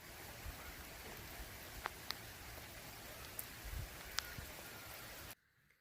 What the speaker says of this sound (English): I would just be upgraded to a rain shower.